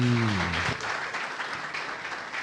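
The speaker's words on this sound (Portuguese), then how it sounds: "Palmas ao Rei." A church congregation claps together for a few seconds, steady and moderately loud, after a voice at the very start briefly speaks or sings.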